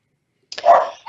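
A single close dog bark sounds sharply, then a fainter yelp follows at the very end.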